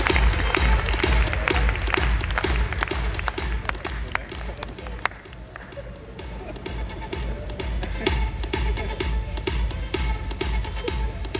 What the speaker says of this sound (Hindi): एक जोरदार तालियां अगर आपको सही लगा उनकी रिसर्च के ऊपर।